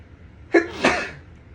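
A single sharp sneeze, a quick intake then an explosive burst, close and loud against a quiet background.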